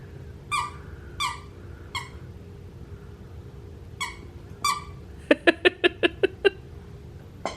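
A dog works a squeaky toy indoors, first a few spaced squeaks, then a quick run of six sharp, evenly timed squeaks, close and fairly loud over a quiet background hum.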